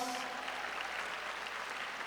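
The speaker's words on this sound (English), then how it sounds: "let's give ASAP another round of applause." A crowd claps steadily for a school performing arts group at a high school commencement ceremony, a faint, even wash of applause with no voices over it.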